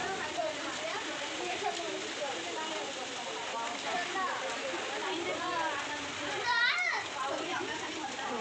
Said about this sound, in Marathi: एवढा पाऊस पडला.